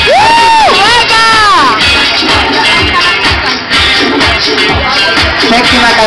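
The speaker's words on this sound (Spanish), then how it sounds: "Fuerte el aplauso para Vanessa." Audience cheers and applause for a contestant at a gay beauty pageant swimsuit round, loud crowd noise and whoops over pulsing dance music, with an announcer's amplified voice at the start.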